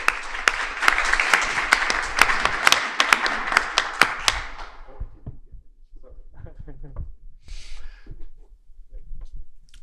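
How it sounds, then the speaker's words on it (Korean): Applause greets an artist at a talk event, dense clapping for about four seconds that thins into scattered claps and then stops, followed by someone speaking. "크리스 조단께 박수 부탁드리겠습니다."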